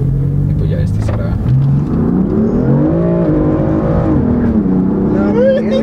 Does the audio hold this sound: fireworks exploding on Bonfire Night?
no